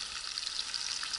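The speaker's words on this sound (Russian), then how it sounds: "вот жарится наша печень" Liver fries in plenty of oil during fishing-trip cooking, giving a steady, close, even sizzling hiss with no talk over it.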